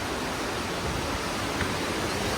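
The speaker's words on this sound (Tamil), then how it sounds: "இங்கே இந்த சைடு போனால் ரிவர் பார்க்கலாம்டா. செம்ம சவுண்டு கேட்குது." Steady, dense rushing water roars continuously, like a river flowing fast nearby in Munnar, with no breaks or voices.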